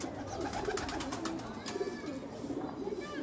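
Breeder pigeons of the Kasur type give soft, repeated low cooing calls, faint and steady against a quiet outdoor background.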